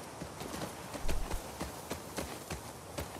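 Horse hooves clip-clop in a video game, a run of distinct, fairly close hoofbeats in an uneven walking rhythm, with a heavier cluster of thuds in the middle.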